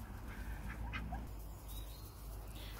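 A few soft quacks and calls from runner ducks nearby, faint against outdoor background noise, with short gaps between them.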